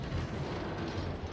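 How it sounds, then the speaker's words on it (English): Ship guns shelling in World of Warships, heard as dense low rumbling booms of naval artillery, muffled and continuous, rolling together without clear separation. "I'm mostly a gunboat, so I'm just going to keep shelling and shelling and shelling and shelling"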